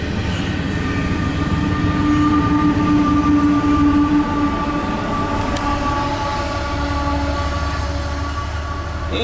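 CSX intermodal freight train with a distributed power unit passing eastbound near Tanglewood, a steady loud rumble of rolling cars and wheels on rail with a sustained tonal whine throughout.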